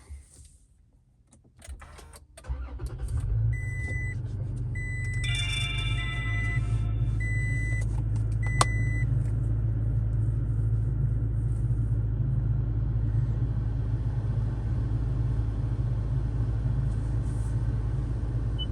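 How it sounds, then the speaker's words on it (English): A 3rd-generation Toyota Tacoma truck engine cranks and catches after a quiet start, then settles into a steady, loud idle rumble that runs to the end, with a brief whine and faint clicks near the start. "Now let's start up the truck."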